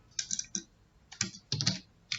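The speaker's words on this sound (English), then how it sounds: "I'm going to write the code now." A few short clusters of keystrokes from a computer keyboard as Python code is typed, close and distinct, separated by brief pauses with no talking.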